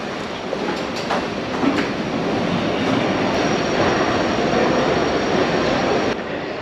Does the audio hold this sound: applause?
no